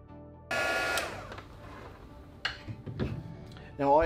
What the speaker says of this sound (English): we'll slide up our heat shrink, and then go ahead and shrink this up.